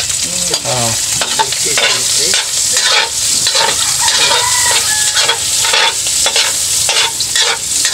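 Pork pieces for dinuguang baboy fry in their own rendered fat, a steady loud crackling sizzle running throughout with stirring and faint clucking of chickens somewhere nearby.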